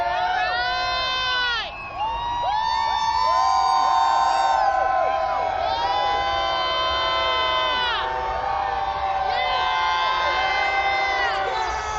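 A large crowd cheers, whoops and shouts at a Stanley Cup parade in downtown Denver, a loud dense wall of voices holding steady for about twelve seconds, with many overlapping excited yells and a brief dip near the two-second mark.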